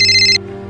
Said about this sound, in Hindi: बाबा का फोन है।